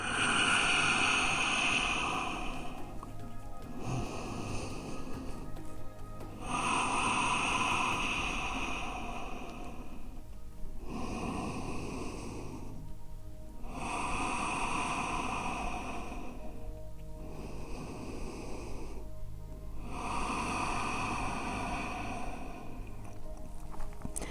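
Slow, deep breaths during a held yoga pose: long, airy inhales and exhales alternate about every two to three seconds, close and steady, with no talking.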